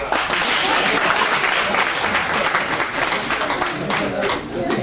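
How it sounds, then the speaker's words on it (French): Steady applause from a conference audience, dense and sustained clapping that fills the whole stretch at an even level, with a voice briefly audible over it. "Applaudissez ça."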